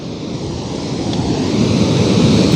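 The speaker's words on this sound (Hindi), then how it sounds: "पानी के प्रवाह की आवाज़ ही अलग रोमांच पैदा कर रही है" Rushing water flows through eroded rock channels in a dense forest, a steady broadband roar that swells slightly louder over the span, continuous and close with no voices.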